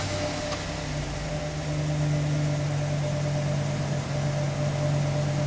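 A Chevy Express van idling with its check engine light on and an evaporative system leak fault, a steady low hum with a constant droning tone, close and unchanging, with no talk over it.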